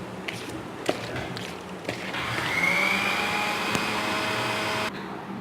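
Blender whirring as it grinds two tomatoes, a steady moderate drone with a few knocks, running for several seconds and then cutting off.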